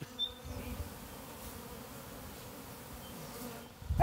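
Honeybees hum steadily around hives at Buzz Hill, a continuous low droning buzz of many insects close by, with a brief louder pass at the start and a clunk at the end.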